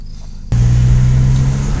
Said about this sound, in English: doesn't this car sound like a diesel? Just listen to it.